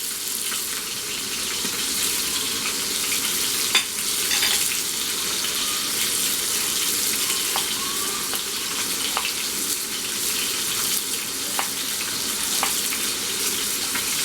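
Pomfret fish frying in a pan for a Bengali fish curry, a steady close sizzle with scattered small pops and crackles throughout.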